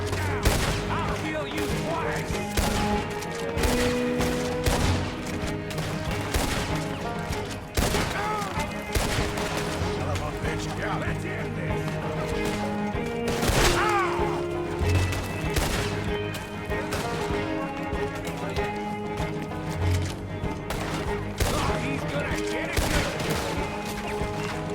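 Gunfire fills a Red Dead Redemption 2 game scene as steady, repeated sharp shots and booms over a continuous background score, with a voice talking now and then underneath.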